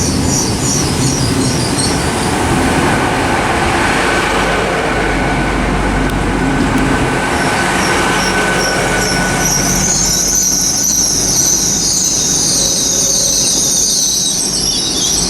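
Great Western Railway Class 802 trains at Bristol Parkway station, a loud continuous rumble of rolling stock with high metallic wheel squeal rising near the end, no talking.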